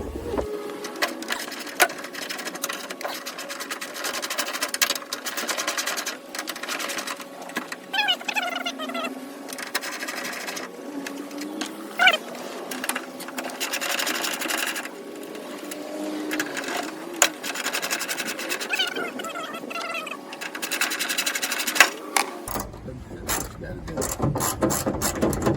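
Mechanical ratcheting and wrenching on a deer-damaged Kia as four 12mm bolts come out, with repeated clicks and metallic scrapes up close and a steady hum throughout.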